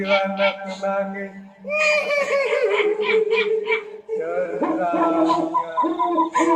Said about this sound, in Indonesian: Ringtone kuntilanak menangis.